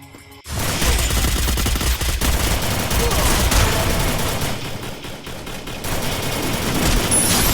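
Dense gunfire from a shooter video game with double sniper rifles, a loud continuous volley of rapid shots and blasts that starts abruptly and keeps going.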